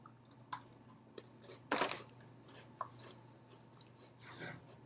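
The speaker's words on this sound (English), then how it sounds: "I'm going to take a bite of my cookie first." A cookie is bitten and chewed up close, with a loud crunchy bite burst midway and scattered smaller crunches and mouth sounds over a quiet background, no talking.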